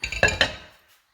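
A metal frying pan set down on a stovetop, giving a few quick clanks and clinks of metal and cookware against the burner, close and fairly loud, then fading to quiet.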